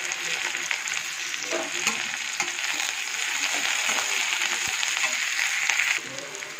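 Food sizzles and fries steadily in a pan for a leftover rice dish, a dense continuous crackle close up with small stir bumps and no talking.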